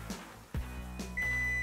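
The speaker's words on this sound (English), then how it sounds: "Well, that was a delayed beep." A kitchen timer sounds late while pasta is being cooked, giving a steady, sustained high electronic beep that starts about two-thirds of the way in and holds to the end, close and clear over low kitchen hum.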